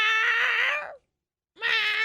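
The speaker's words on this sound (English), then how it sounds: "The cat in our house is in heat." A female house cat in heat caterwauls in two loud, drawn-out, wavering yowls close by, the first lasting nearly a second, then a brief silence before the second begins.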